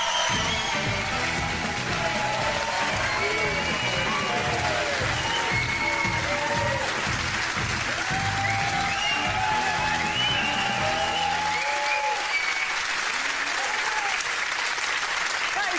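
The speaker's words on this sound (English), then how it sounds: "That's some Chelsea fans too cheering you." A stadium crowd applauds and cheers footballer Steven Gerrard, Liverpool and Chelsea fans among them, with loud sustained clapping and cheering that thins toward the end.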